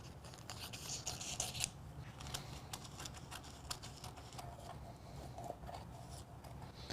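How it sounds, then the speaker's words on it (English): Quiet, close snipping and scraping trims excess material from the edges of a Cricut craft blank, irregular soft cuts with a faint steady background hum. "So I'm gonna kind of trim up the parts we don't want."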